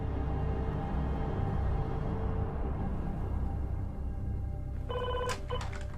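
A telephone in the Lamplugh home rings near the end, a couple of short, bright, tonal bursts rising above a steady low background rumble.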